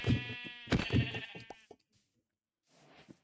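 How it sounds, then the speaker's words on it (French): Sheep in the Minecraft video game bleat in quick repeated wavering calls, loud and close, followed by a pause and a softer breathy bleat at the end. "Oh, des moutons."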